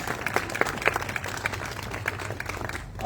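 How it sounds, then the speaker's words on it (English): A city crowd at a State of the City address in Douglas, Arizona, applauding the city council, with moderately loud clapping and individual claps standing out above a steady murmur of hands for about three seconds. "Give them a round of applause."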